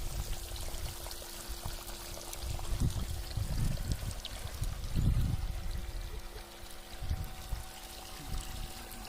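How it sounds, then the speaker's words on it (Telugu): Water poured onto newly planted coconut saplings in soil, a steady outdoor splashing and trickling with a few louder surges, continuous throughout with no talk. "మనకు నీళ్ళు పెట్టేస్తాం ఈ విధంగా"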